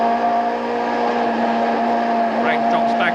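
Touring cars in a 1989 BTCC race, a BMW among them, roaring past in a steady loud engine drone with rising whine toward the end; a commentator talks over the noise throughout.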